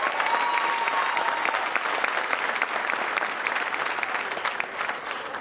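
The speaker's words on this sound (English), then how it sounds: "let's give a round of applause to our faculty and staff" A crowd at the Woodlands High School Class of 2023 graduation ceremony applauds faculty and staff, a broad, steady wash of clapping from many people that fades slightly toward the end.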